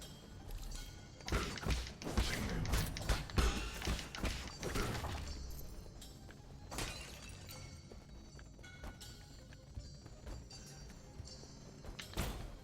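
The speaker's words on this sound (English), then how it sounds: "this is another elevator type thing" An elevator mechanism moves in the video game Nine Sols, with heavy thunks, clanks and shattering impacts, loud at first, then softer mechanical knocks and rattles as the motion continues.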